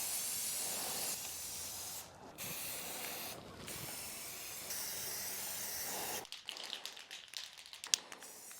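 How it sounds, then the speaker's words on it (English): Steady hissing of an aerosol spray can painting a ceiling fan, broken by two short pauses, then a few clicks and rattles as spraying stops. "I could finally get back into spraying."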